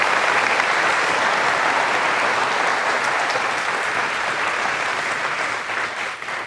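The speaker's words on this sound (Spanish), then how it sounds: "Denle un aplauso al Señor por eso" A church congregation claps at a worship service, producing steady, dense, loud applause that fills the space throughout and fades only slightly at the very end.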